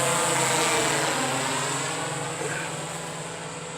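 An Infinite Jib Surveyor 630 drone spins up and lifts off, its loud whining rotor drone passing close overhead and slowly easing as it climbs away.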